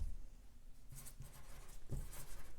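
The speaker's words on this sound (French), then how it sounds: "voilà, j'écris cardigan." A pen writes a word onto a paper sewing pattern for a cardigan, giving faint, close, intermittent scratchy strokes in short bursts over quiet room tone, with no voice.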